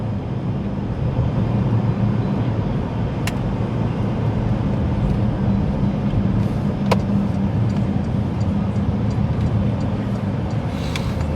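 Road traffic at Destin Commons, a continuous dense roar of passing cars and vehicles heard from close by, with a couple of brief sharp clicks standing out over the steady wash.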